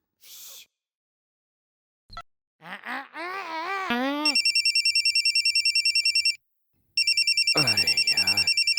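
A telephone rings with a fast, repeated electronic bell trill in two bursts, after a few short gasps and strained vocal noises from a person.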